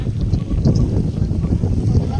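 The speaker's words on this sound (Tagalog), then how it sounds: "Ang lakas ng hangin." Strong wind roars steadily across an outdoor microphone on a hanging bridge in Baler, a continuous low buffeting rumble with voices faintly underneath.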